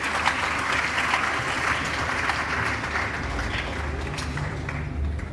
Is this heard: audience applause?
yes